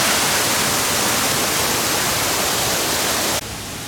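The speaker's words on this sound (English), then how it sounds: "We've also got this wonderful, waterfall here in the aviary section." Waterfall in the aviary section of ZooTampa at Lowry Park, a steady, loud broadband rush of falling water that holds constant and then drops abruptly to a softer level near the end.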